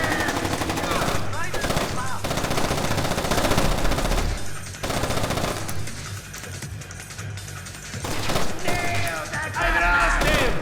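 Rapid bursts of automatic gunfire rattle in a firefight in the stealth video game Splinter Cell: Chaos Theory, loud and dense with brief lulls, with shouted voices mixed in.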